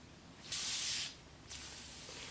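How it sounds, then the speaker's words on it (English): A saline nasal spray fires a fine mist in two quick, soft hissing bursts, the first about half a second long and the second fainter and trailing off, heard close in a quiet room. "it just sprays like a fine mist into your nose, and you spray it a few times into each nostril"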